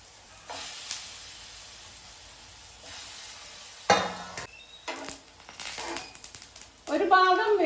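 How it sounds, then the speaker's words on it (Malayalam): Jackfruit seed kababs frying in a pan on the stove, with a steady sizzle, hiss and occasional clatters of turning the pieces, while a person talks over it. "ഇത് ഓരോന്ന് അടുപ്പത്ത് വെച്ച് ഫ്രൈ ചെയ്തെടുക്കുക കേട്ടോ"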